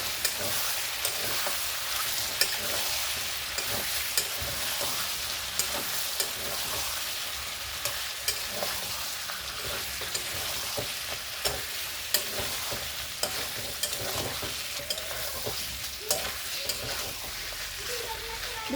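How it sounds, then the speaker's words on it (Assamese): Mutton curry meat being stirred in a frying pan, a steady loud sizzle with repeated scraping stir strokes throughout, no talking. "এতিয়া ঢাকনিখন তুলি মই অলপ মাংসখিনি লাৰি দিম"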